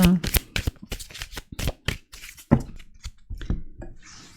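Tarot cards handled and laid down during a reading, a quick series of close, sharp flicks and slaps with talk between.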